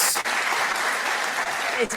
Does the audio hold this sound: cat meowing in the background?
no